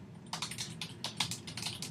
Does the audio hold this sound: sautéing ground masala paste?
no